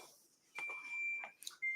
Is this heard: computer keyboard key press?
no